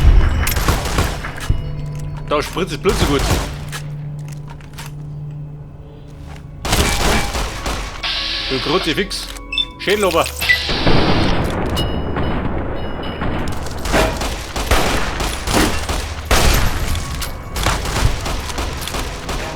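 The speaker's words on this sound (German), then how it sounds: "Er ballert da." Repeated gunfire bursts and booming impacts from the video game Fallout: New Vegas, loud and close, with rapid volleys and heavy thuds alongside game music, while someone comments in German over the action.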